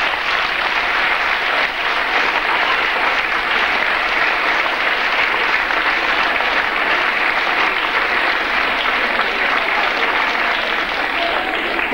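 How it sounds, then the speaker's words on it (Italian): Sustained, dense applause from an audience at a school children's orchestra concert fills the whole stretch evenly and loudly, with no pauses. "per i quali vorrei un applauso"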